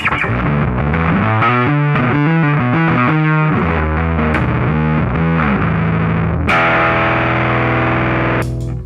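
Heavily distorted 2001 Precision bass playing a riff through a DMB Stellar Drive pedal and amp, gritty and loud throughout, with a held, fuzzy note near the end.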